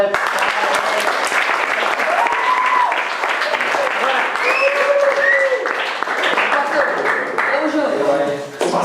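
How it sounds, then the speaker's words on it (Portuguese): An audience at a church youth camp workshop applauds loudly and continuously for several seconds, with voices and cheers mixed into the clapping. "Uma salva de palmas aí."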